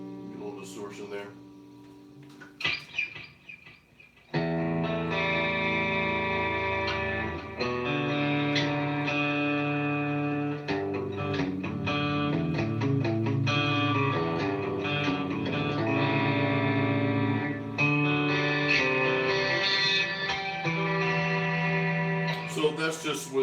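ESP E-II Horizon FR 7 seven-string electric guitar through its bridge pickup with distortion, a brief pause of quiet noodling, then thick sustained distorted chords and riffs played up close for about twenty seconds.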